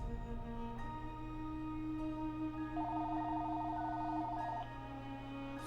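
A telephone rings with one warbling electronic trill lasting about two seconds, moderately loud, over a constant humming, droning music bed.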